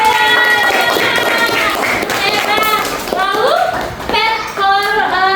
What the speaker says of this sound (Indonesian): Tepuk tangan dong buat robot.